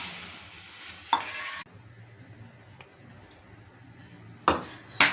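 Pepper powder roasts in a pan for ragi soup, a soft, low sizzle under a few sharp scrapes and clatters of a spoon against the pan, loudest at the start and near the end.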